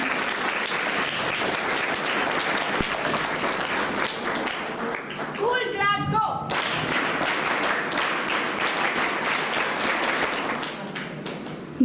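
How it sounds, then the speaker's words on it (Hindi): An audience at an international school gathering for a Ramabhujanga stotra recitation applauds to welcome a guru. The applause is loud and sustained, and a brief tonal, voice-like sound cuts through it midway. "गुरुजी के लिए स्वागत पर हम तालियों से उनका"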